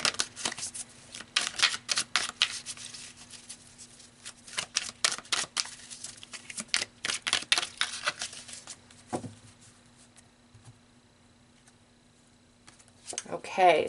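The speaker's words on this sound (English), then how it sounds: "let's pull some more cards here." Tarot cards handled during a reading, a run of quick crisp shuffling snaps and riffles close up, bursts of card flicks broken by quieter pauses, with a steady low hum underneath.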